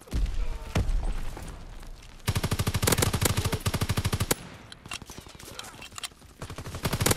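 Gunfire in the video game Call of Duty WW2: a few single shots, then a long rapid machine-gun burst and scattered shots after it, loud and close, with a voice talking under it at times.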